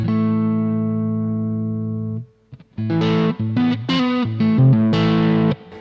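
An electric guitar played through a Boss MS3 on a clean vintage zero-gain tone: a held chord rings out and fades, then a short run of bright single notes and chords follows, loud and with no one talking.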